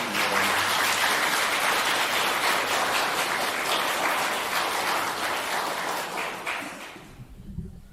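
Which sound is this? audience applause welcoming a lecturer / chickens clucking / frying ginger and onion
audience applause welcoming a lecturer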